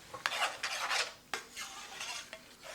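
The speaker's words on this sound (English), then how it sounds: "And keep stirring" Vegetable curry stirred in a pan with a utensil, giving repeated scraping, rasping strokes at a steady, close rhythm, with no voices.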